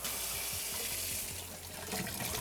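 Water gushes steadily from a mixer tap into a sink, a close, continuous broadband rush with no voices over it.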